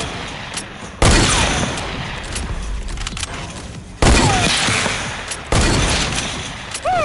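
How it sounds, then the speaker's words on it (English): Gunfire in the video game Fortnite: three loud, close bursts of shots at uneven intervals, each ringing out and fading slowly before the next. "Hey, you're shooting."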